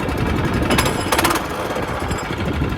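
A Turfco Kriscutter sod cutter's engine cold-starts on the first pull, giving a loud, rapid mechanical chatter that runs steadily throughout.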